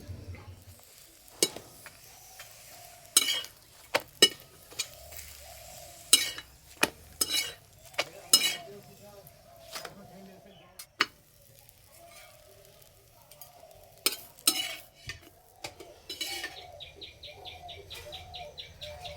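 Sattu paratha frying in a pan gives a faint, low sizzle, broken by repeated sharp clacks and scrapes of a spatula turning and pressing the bread, with birds chirping faintly in the background and no talking.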